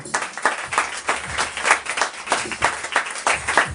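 A church congregation at a Sunday service claps in a steady rhythmic beat, about three claps per second, loud and close, with no voices over it.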